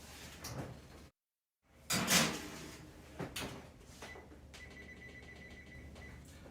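An oven door is opened and closed while a tray of Brussels sprouts goes in, giving a few close clunks and sliding knocks, a brief gap of silence, then quieter metallic handling sounds.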